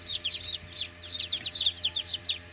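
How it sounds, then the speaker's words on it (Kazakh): Rapid, high-pitched peeping of newly hatching Amrox and Kuchin chicks, many short chirps in quick overlapping bursts, close by and continuous. "Мына балапандар шығып жатыр."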